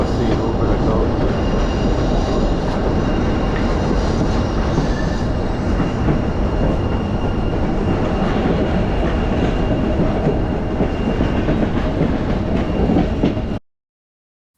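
Train running on the old mountain railroad out of Skagway, a steady loud rumble of rolling cars with clickety-clack from the wheels and faint squealing, continuous and close until it cuts off.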